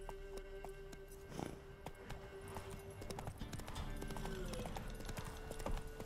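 Rhythmic hoof clip-clops of a horse in The Witcher 3: Wild Hunt Remastered over steady game music and ambience, a brief whinny-like tone partway through.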